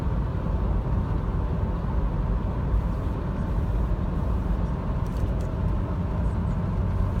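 A Toyota 4Runner drives on a road, heard from inside the cabin as a steady low road and engine rumble with a faint tyre hiss, continuous and even with no voices.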